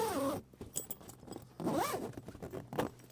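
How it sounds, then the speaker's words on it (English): Zipping up the canvas of a VW campervan poptop: two long, close zip pulls with scraping fabric and small clicks between them, no talk. "Zip the canvas all the way back up."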